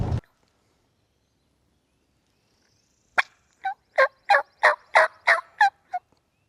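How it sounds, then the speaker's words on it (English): A wild turkey gobbles once on Tennessee public land, a rapid rattling run of about eight pulses lasting under three seconds, clear and fairly close against an otherwise silent morning. "There's turkeys out here somewhere."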